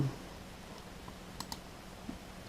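Two quick, faint clicks of a budget Patuaxon Zelotes gaming mouse, followed by a softer third click, over a quiet room hum with no talking.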